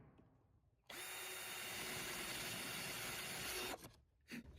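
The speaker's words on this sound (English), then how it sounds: "That's just like drilling through wood." A power drill bores through a dried gourd shell being made into a birdhouse, a close, loud, steady whine lasting about three seconds before cutting off, followed by a short second burst.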